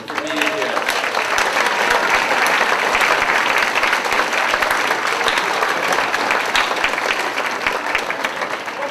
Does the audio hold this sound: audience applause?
yes